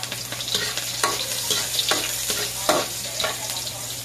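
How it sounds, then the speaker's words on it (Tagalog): Onion and garlic sauté in a hot pan for chicken-feet adobo, a steady close sizzle broken by regular stirring scrapes roughly every half second, with no voices. "Pag po medyo naamoy na, ilagay na po natin yung sibuyas. Tapos isabay na po natin yung bawang."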